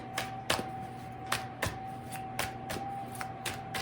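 Tarot cards being shuffled quickly by hand in a series of crisp riffling snaps at a fairly steady rhythm, close and clear over a faint background hum.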